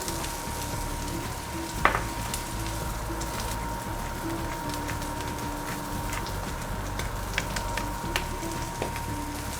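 A pork chop sizzles and fries steadily in a hot pan, seasoned with salt and pepper, a constant close crackling hiss with scattered pops and one sharper spit early on, no talking.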